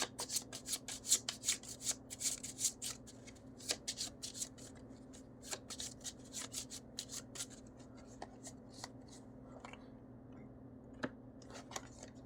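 Playing cards for a Terminator Dark Fate board game are shuffled by hand at a table, with a steady run of soft riffling and rubbing rasps, quiet and close, over a low background hum and no talking.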